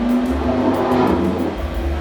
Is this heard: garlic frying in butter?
no